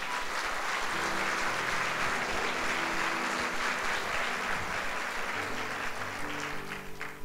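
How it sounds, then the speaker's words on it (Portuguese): A church congregation at a Sunday service applauds in a dense, even wash of clapping that holds steady for the whole stretch, with faint voices and tonal background beneath it. "Dê um aplauso ao Senhor"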